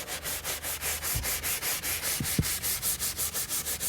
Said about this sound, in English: This is also from SONAX brush, SONAX interior brush.